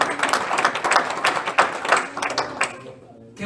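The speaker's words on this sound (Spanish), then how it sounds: "Usted le da un aplauso al Señor esta noche." A church congregation claps at an evening service, with dense, uneven handclaps that carry on for a few seconds and then thin out and fade.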